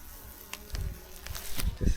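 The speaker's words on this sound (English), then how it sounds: "You can see there's some bees there" Honeybees in winter hive clusters under grain-bag covers buzz steadily during a February colony inspection, close and soft, with a few louder bumps and handling thumps.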